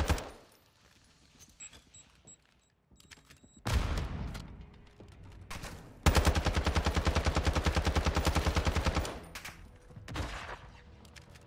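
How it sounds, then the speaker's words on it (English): Automatic gunfire in the Call of Duty DMZ video game, with long rapid bursts of loud close shots separated by short pauses, and no talking. "Shoot him in the body."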